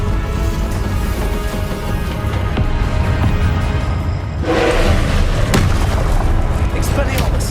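Spell explosions in Hogwarts Legacy combat, deep booms and bursts rumbling over a loud continuous game soundscape, with one stronger blast midway and other impacts after it.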